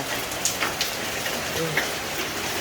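Steady rain falls in the yard behind a rural house after an all-night downpour, a continuous broadband patter with a few brighter drip hits, moderately loud and with no voices over it.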